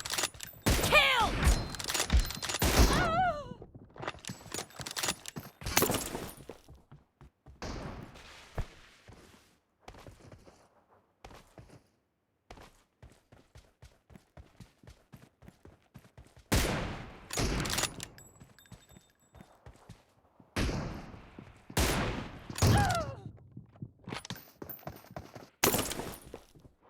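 Bursts of rapid gunfire from the mobile battle royale game PUBG Mobile in a team deathmatch, loud volleys separated by pauses and scattered lighter clicks and footstep-like taps, with no talk.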